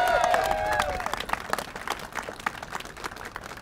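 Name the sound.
crowd cheering and applauding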